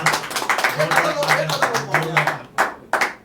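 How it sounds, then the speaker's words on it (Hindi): Audience at an Urdu poetry recital claps, with short bursts of hands breaking through over someone speaking, the loudest claps near the end. "बहुत जोरदार तालियां"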